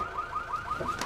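A car alarm wails in a rising, repeating siren pattern, loud and close, with no voices, in a scene from the drama Sweet Home.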